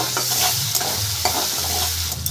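Shrimp frying in a pan: steady sizzling throughout, close and fairly loud, with occasional scraping clicks from stirring and no voices.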